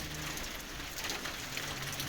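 Rain pours from a gutter in a village in Namangan region, a dense steady patter and spatter heard close and alone without pause.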